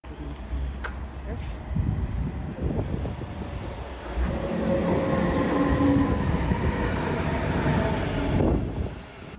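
German train wheels rumble and clatter steadily over rails toward Bad Schandau, heard inside a carriage, a continuous low roar that grows louder midway, with speech faintly underneath.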